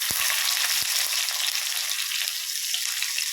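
Mustard seeds, fenugreek and chopped shallots fry in hot oil with a loud, steady sizzle and a few sharp pops near the start, with no talking.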